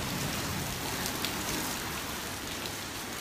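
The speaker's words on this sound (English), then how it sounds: "I love the rain, and you heard it here, I don't complain" Steady rain falls in a dense, even hiss of drops on surfaces, continuous and close, with no voices.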